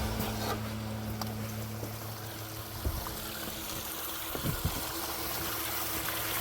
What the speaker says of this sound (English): You want to see how much water it's using at the outflow.